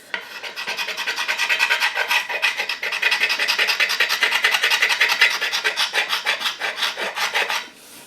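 Steady rhythmic rasping as a sharp edge scrapes along a wooden Welland Vale axe handle, close and loud repeated strokes that stop abruptly near the end.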